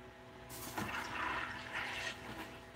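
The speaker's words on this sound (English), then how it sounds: "I'm gonna go ahead and quench this in some water." A hot aluminum 3D-printed hollow part is quenched in water, giving a sudden loud hiss and bubbling sizzle that rises, holds for about a second and a half, then fades, with no talk.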